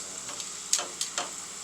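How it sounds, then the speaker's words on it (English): French fries frying in batches in hot, popping oil: a steady high sizzle with a few sharper crackles and pops standing out near the end, close and fairly quiet. "So now, same thing, we're going to fry in batches. Is this oil ready? Yeah, it's popping."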